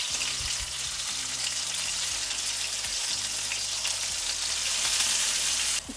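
Meatballs (sacaklı köfte) fry with onions in oil in a pan while the onions caramelize, giving a loud, steady sizzle that runs unbroken throughout with no talking.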